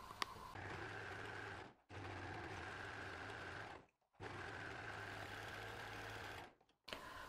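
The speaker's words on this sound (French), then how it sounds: "venir coudre ici à 1 cm avec la surjeteuse ou la machine à coudre" A serger or sewing machine runs in three steady bursts, stitching a 1 cm seam on fabric for harem trousers, its motor whirring loud and close with brief pauses between runs.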